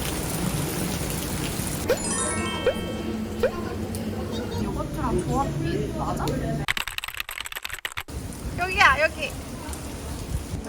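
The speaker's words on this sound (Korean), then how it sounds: "비가 아, 너무 많이 와요" Heavy rain pours down on an Istanbul street, a steady broadband hiss running under people talking throughout.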